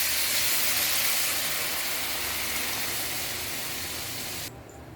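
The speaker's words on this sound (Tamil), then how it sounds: "தக்காளி புளியில் நம்ம கரைச்சி வச்சது இதில் ஊற்றிக்கலாம்" Tomato and tamarind water hits a hot pan for rasam and sizzles in a loud, steady hiss that slowly fades and then drops off sharply near the end.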